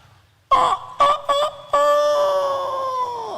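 A man imitating a rooster crowing, with several short choppy calls followed by one long drawn-out wavering crow, loud and close with no other voices.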